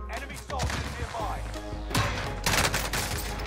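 A 725 shotgun fires in Warzone's Rebirth Island mode, heavy booming blasts standing out loudly over game sounds and background noise.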